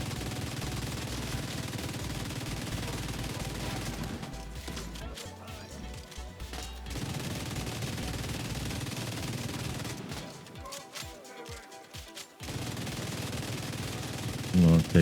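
Rapid automatic gunfire from weapons in the video game Division 2, dense bursts of rattling shots broken by short pauses, moderately loud and continuous for long stretches.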